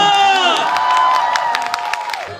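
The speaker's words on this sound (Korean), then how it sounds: "박수 한번 주세요." A fan-meeting crowd applauds and cheers, with sustained clapping and excited shouts and whoops over a held musical tone that fades as the clapping continues.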